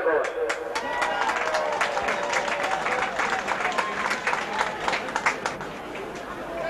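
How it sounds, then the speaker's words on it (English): A Warrington rugby league crowd applauding after a Sheffield Eagles try in a cup match, a loud burst of clapping that thins into scattered claps and cheers, with a commentator talking over it. "Getting a good round of applause from the Warrington crowd."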